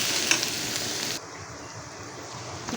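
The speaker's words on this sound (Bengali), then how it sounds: "এখানে যে পোলাও যে চাউলটা হয় সেটাই দিলাম। তো এটা দিয়ে ভেজে নেব।" Polao rice fries with spices in a pan, starting with a bright, loud sizzle for about a second before dropping to a quieter, softer hiss.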